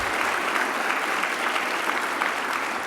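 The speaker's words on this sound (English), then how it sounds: "I could not begin as well without giving another round of applause for Step Africa." A conference audience gives a dense, even round of applause, many hands clapping at once in a steady wash with no talk over it.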